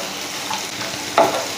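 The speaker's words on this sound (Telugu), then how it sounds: "ముక్క ఉడికిపోయాక హైలో పెట్టేసి ఇలా దగ్గరుండి వేపండి" Beetroot pieces fry on high heat in a pan, a steady broadband sizzle with a brief louder crackle near the end.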